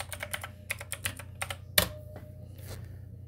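Quick bursts of keystrokes on a computer keyboard, several fast clicks in two short runs with a sharper key strike near the middle, close and clear with no talk.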